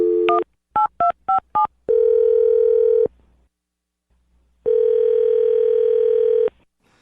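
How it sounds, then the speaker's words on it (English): A rapid run of short beeping dial tones as a number is keyed in, followed by two long steady ringback tones separated by silence. "I'm dialing his phone number right now."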